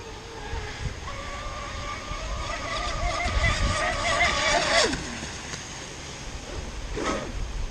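A heavy motorboat engine drones and rises in pitch as the boat accelerates over the water, with waves and spray washing around it, then the tone drops away and later surges briefly again.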